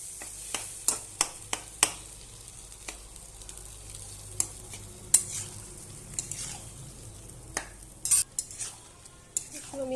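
Pumpkin with chicken skin and spices being stir-fried in a pan, a low sizzle punctuated by sharp, irregular clacks of a utensil scraping and tapping the pot, close and alone.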